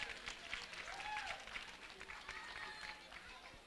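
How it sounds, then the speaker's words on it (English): Faint applause from the audience at a hospitality and entrepreneurship training program graduation ceremony, heard as a distant patter of clapping mixed with scattered voices and a high whistle-like tone. "round of applause."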